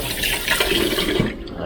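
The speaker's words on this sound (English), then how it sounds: "Let's wash our hands." Tap water running over hands at a kitchen sink after cooking with phyllo dough, a close, steady splashing rush lasting under two seconds with no talk.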